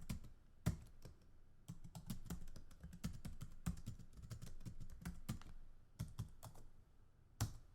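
Steady clacking of computer keys, quick irregular taps with brief pauses, close and fairly quiet with no talking.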